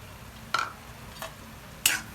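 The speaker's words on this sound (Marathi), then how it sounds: "याला चांगला असं मिक्स करून घ्यायचं" A spoon stirring carrot halwa with semolina in a pan, three separate scraping strokes spaced out over two seconds, close but quiet, with no talk.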